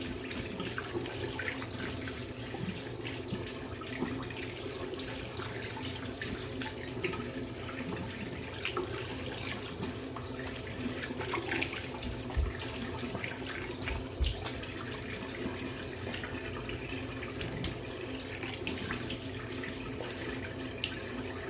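A kitchen or bathroom tap runs steadily, rinsing shaving soap off, with a continuous close splashing hiss and small fluctuating water spatters and no talking.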